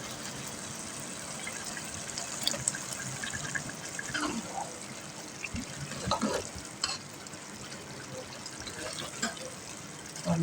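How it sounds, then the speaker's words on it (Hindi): Water going into a pot of chicken pulao as it cooks, a steady sizzle and stirring wash with faint liquid trickles and occasional clinks throughout. "थोड़ा सा पानी हम इसमें मज़ीद डालेंगे।"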